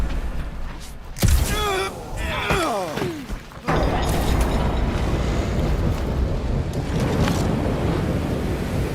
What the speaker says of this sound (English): Your feeble body cannot overpower such tremendous gusts!